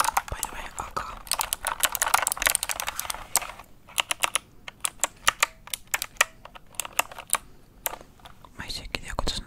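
A small computer keyboard is typed on close up with bursts of crisp clicking keys, sometimes rapid and sometimes sparse, during a whispered ASMR session. A soft whispering voice runs under the typing.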